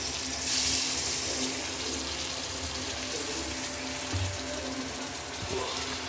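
Water is poured into a pot of tamarind-based bitter gourd pulusu (kakarakaya karam pulusu), a steady close splashing gush running throughout the clip.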